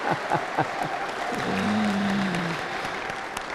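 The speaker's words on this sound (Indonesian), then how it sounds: "Tepuk tangan untuk Ibu Diah Sawitri ya." Applause for Ibu Diah Sawitri, a teacher, at a student event, a steady crowd clapping with a sustained tone and murmur mixed in.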